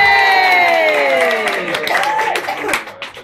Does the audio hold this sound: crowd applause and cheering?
yes